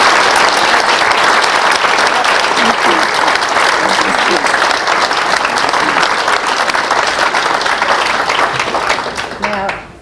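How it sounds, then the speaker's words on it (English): A lecture audience gives a loud, sustained round of applause after a psychology talk, dense clapping holding steady for about nine seconds before tapering off abruptly. "Let's give her a big round of applause"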